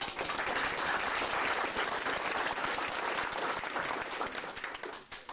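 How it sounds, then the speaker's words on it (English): Guests at a 50th wedding anniversary celebration give a hearty round of applause for the couple's children, dense steady clapping that fills the whole stretch and tapers slightly at the end. "I think they all deserve a round of applause"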